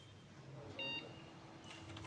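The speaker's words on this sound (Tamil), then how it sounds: "அப்பா பீப் சவுண்ட் வந்துடுச்சு." A desktop computer motherboard emits a single short beep at startup after its corrupted BIOS chip was manually flashed, heard briefly over steady fan hum.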